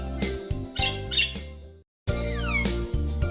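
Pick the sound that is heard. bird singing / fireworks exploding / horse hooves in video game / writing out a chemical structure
bird singing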